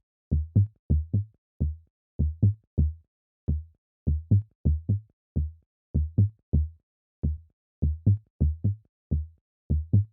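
Warm synth bass from an Ableton Operator patch with saturation and a filter envelope, playing two notes in a bouncy, repeating pattern of short plucky hits for a micro house groove, alone and clear.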